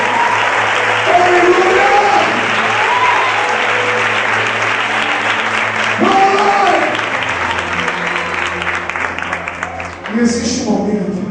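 Loud, sustained applause from a church congregation fills the space, with a singing voice and music carrying over it.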